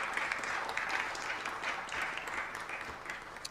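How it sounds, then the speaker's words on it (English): An audience at a Los Angeles city council meeting applauds continuously, a steady, moderately distant wash of clapping with no other sounds standing out. "Let's give them a big round of applause for being with us today."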